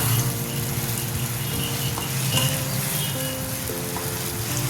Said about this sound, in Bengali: এবার দিয়ে দেবো ম্যারিনেট করা মাংস এবার ভালো করে কষিয়ে নেব